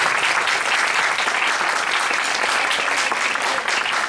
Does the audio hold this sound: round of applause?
yes